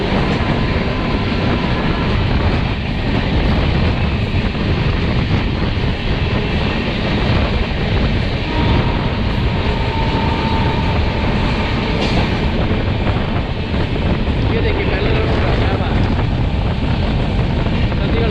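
The Bihar Sampark Kranti Express, running on an Indian railway line, roars past loudly and continuously, with rumbling wheels, rattling coaches and heavy wind buffeting throughout.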